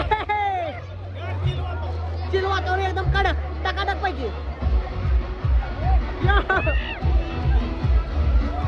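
Crowd hubbub at a busy waterpark, Baliraja Agro Tourism and Waterpark, with overlapping distant voices and splashing activity; a nearby person speaks over the steady background crowd noise.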